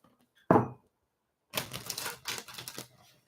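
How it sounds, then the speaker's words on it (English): A deck of cards is shuffled during a live psychic tarot reading, starting with one sharp snap, then after a pause a quick burst of riffling flutters and clicks, close up. "One more shuffle here."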